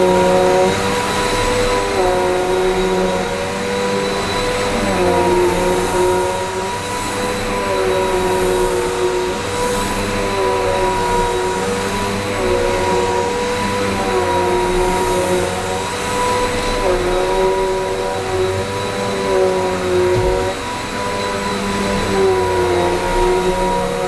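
A Zanuusi AirSpeed Lite II pet bagged upright vacuum runs on its low setting over carpet, a steady close motor drone with shifting tonal whine throughout and no talk.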